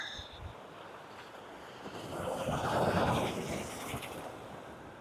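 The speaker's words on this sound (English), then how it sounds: "I find the sea quite relaxing." Sea surf washing onto an island beach, a steady broad rush of wind and water that swells louder through the middle before easing, with no voices.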